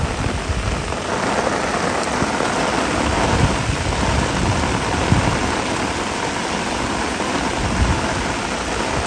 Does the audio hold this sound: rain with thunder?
yes